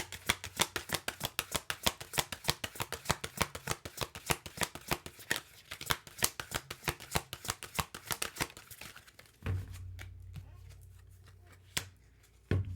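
Tarot-style oracle cards are shuffled in a fast, steady riffle of crisp slaps for about nine seconds, close and clear, then a few softer handling sounds and single card snaps follow.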